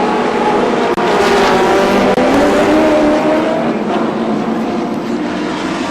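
Race car engine at the 1984 Castrol 500 at Sandown, Victoria, as a car leaves the pits: a loud, sustained engine roar with a steady drone throughout, close and dominant, no talk in the clip.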